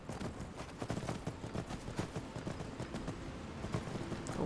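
Horse hooves clip-clop steadily in the Skyrim video game, a busy run of close, even hoofbeats with no talk over them.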